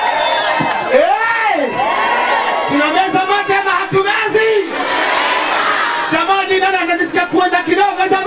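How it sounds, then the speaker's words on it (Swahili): Big crowd at a third-anniversary show in a stadium, loud sustained shouting and whooping with rising cheers, voices yelling over one another up close. "makofi mazuri, makofi ya Yesu"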